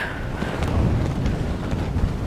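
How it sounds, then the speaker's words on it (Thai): Strong wind buffets the microphone in the Colorado desert, a loud continuous low rumble with gusting surges throughout, with no other sounds standing out. "โอ้ยลมแรงสุดๆ"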